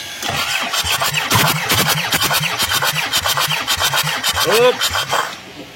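Kia Carnival diesel engine cranking on its starter during a compression check, a fast, even, close chugging churn that runs steadily for several seconds without catching, with a brief whine and voices partly over it.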